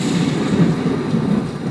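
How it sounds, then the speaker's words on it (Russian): Simulated lightning and thunder effect going off at a thunderstorm safety training exhibit for children, a loud sustained low rumbling roar that holds steady throughout with no voices. "Если они выбрали неверный тип укрытия, как я, то сработает молния."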